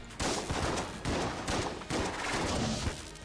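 Rapid bursts of SMG gunfire from enemies in the Enter the Gungeon video game rattle out in three or four dense, loud volleys with no talking.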